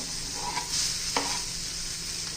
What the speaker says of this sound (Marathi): आता त्याच्यामध्ये आपण आलं लसूण घालून घेऊया, ते पण परतून घ्यायचे